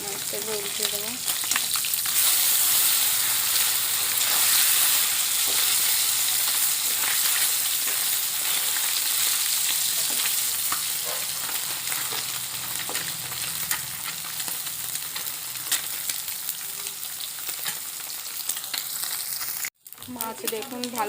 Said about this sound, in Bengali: মাছ দেখুন ভালোভাবে ভাজা হয়ে গেছে, মাছগুলো তুলে নেব।